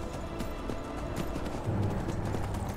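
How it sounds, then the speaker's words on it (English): Horse hooves in the Skyrim video game thud in a quiet, irregular clip-clop, with a low droning tone coming in near the end. "My horse can't run anymore."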